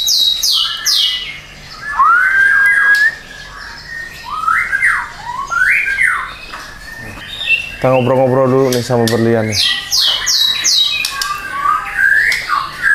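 A pet songbird chirps and sings in rapid, varied bursts close by, with a harsher buzzy squawk in the middle, while a person talks in the background.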